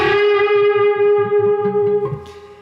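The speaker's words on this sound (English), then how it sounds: "I'm gonna kick on my distortion pedal, and this is gonna be the sound that we're going for here." An electric guitar played through a distortion pedal rings out a lick: a loud, sustained, buzzing note with a short rhythmic pattern picked beneath it, then a final accented stab before it fades.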